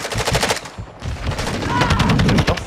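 Rapid automatic gunfire in Call of Duty MWII, dense bursts of close, sharp shots through most of the short stretch, with a brief lull before firing resumes.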